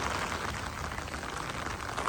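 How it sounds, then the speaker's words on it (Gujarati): Heavy rain falls steadily on an Indian cattle farm with Kankrej cows and bulls, a dense, continuous hiss of drops on surfaces, loud and close throughout with no talk. "વરસાદ જોરદાર છે"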